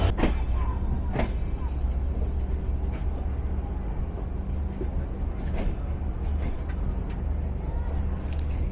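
The 705 Ekota Express rolls between Dhaka Airport and Joydebpur Junction stations in Bangladesh, a continuous low rumble of the train in motion, broken now and then by sharp clacks from the rails.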